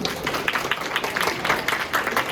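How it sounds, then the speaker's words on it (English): Applause from a comedy roast audience, steady dense clapping filling the room with irregular peaks and no voices over it. "Big round of applause again for them"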